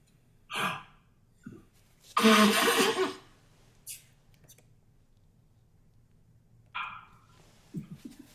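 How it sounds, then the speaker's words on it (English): Someone blows their nose with a loud, breathy honk, surrounded by sniffs, sighs and small rustles close to the listener. "I'm going to blow my nose."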